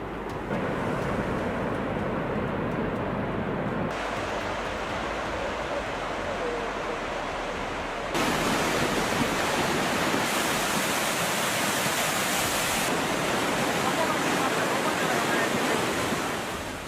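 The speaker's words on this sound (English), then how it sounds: "A major landslide in Bondo earth and rock poured down like a waterfall after rain" A major landslide of earth and rock after rain in Bondo: a continuous, heavy roar of rushing debris and water, like a torrent pouring down, steady for the whole stretch and growing louder toward the end.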